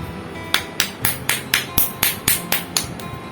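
A nail polish bottle being shaken hard to loosen thickened polish, giving about ten sharp, evenly spaced rattling knocks close up, with no voices.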